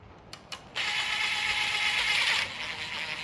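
A torque wrench tightens the oil pan bolts on an LS engine being built for a 1992 third-gen Camaro swap, giving a couple of quick clicks and then a steady mechanical whirring buzz for about two seconds, close and clear, with no voices.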